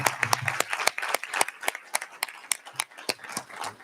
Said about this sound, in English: can we just give one more round of applause to all of our speakers here tonight for coming out?